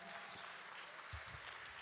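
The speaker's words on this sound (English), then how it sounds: "give yourselves a round of applause" A large audience claps at a Martin Luther King Jr. community celebration, a faint, steady wash of applause heard from a distance with some low murmuring beneath.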